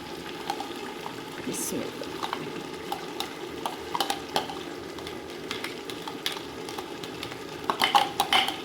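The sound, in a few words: green chillies added to sizzling pan for sarson ka saag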